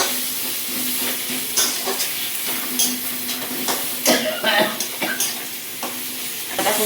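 Spices with turmeric, salt and chili sizzle and fry in a pan for a Bengali-style sour fish curry, with steady close sizzling and intermittent stirring scrapes, and no talk.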